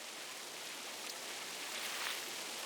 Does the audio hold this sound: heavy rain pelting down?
yes